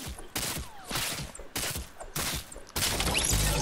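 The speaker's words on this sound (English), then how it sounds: "Wait, somebody's shooting." Bursts of gunfire in Fortnite squad mode, four or five separate volleys of shots spaced about a second apart, fairly quiet and distant, alone without talk.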